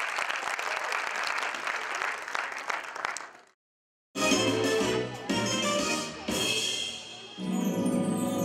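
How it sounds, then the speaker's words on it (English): Audience applause for a junior school stage production, a dense burst of clapping for about three seconds that stops dead, then gives way to loud music with a full band and voices. "let's give a big round of applause for the junior production"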